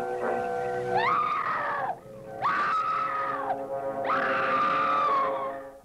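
A woman screams three times in the 1959 Ed Wood horror film Night of the Ghouls; each scream is loud, long and wavering, with short pauses between them and no talk.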